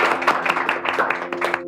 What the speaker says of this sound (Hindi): तालियां इनके लिए।